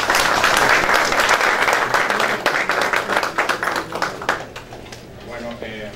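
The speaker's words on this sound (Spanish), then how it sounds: "Un aplauso, por favor." Audience clapping for a speaker invited forward at a Book Day lecture, dense applause at first that thins into scattered claps and fades out over a few seconds.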